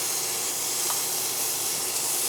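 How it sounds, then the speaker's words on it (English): Flank steak searing in hot oil in a pan gives a steady, even sizzling hiss throughout, fairly quiet and with no talking. "You want to sear each side of the steak."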